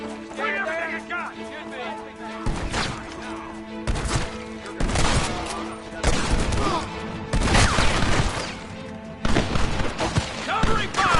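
Repeated bursts of gunfire and booms from the Western game Red Dead Redemption Remastered, loud and close, mixed with shouting voices and a musical score throughout.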